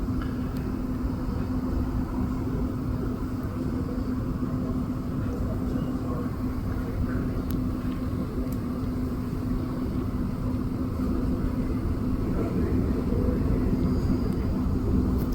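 A steady, loud low rumble with a constant droning hum from inside a REM light rail train between Anse-à-l'Orme and B, continuous throughout with no breaks.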